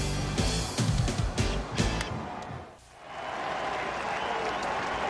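A sellout Vanderbilt Stadium crowd in Nashville cheers a Tennessee field goal, with a loud roar and claps at first, then a brief dip and a steadier wash of crowd noise.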